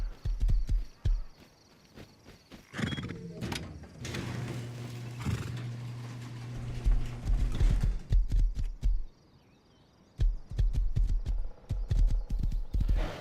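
Horse hooves clip-clopping in the video game Rust, a run of steady walking steps with a brief pause and a mechanical sliding sound partway through.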